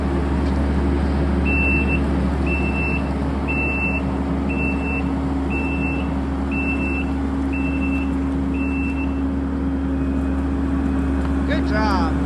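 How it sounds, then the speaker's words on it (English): A skid steer drives back and forth to compact a shale base, its engine a steady loud drone while a backup alarm beeps about eight times in an even rhythm. "now he's driving the skid steer back and forth over it to kind of compact it down"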